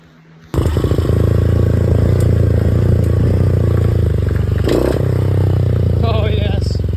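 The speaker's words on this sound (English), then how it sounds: "We better hop on dirt bike and ride down to the junkyard and pull some parts." A dirt bike engine starts up and runs steadily up close, a loud continuous motor drone with rattling clatter, ridden toward a junkyard.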